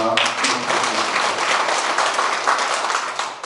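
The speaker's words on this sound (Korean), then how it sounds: "박수 부탁드립니다." Steady crowd applause at a town community meeting in Korea fills the clip, dense and continuous from start to finish, with a faint Korean voice introducing officials near the beginning.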